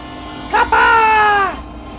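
A train in a video game sounds a horn: one loud, sustained tonal blast of about a second that starts abruptly, holds steady and sags slightly in pitch as it fades, over a low background rumble.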